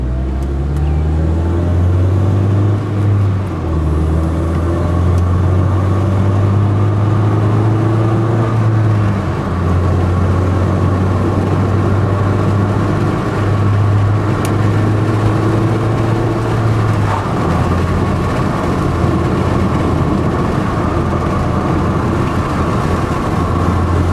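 Engine of a 1992 Honda Prelude Si on a test drive, a steady loud drone with pitch rising and falling through gear changes and speed shifts, plus road and tire noise throughout.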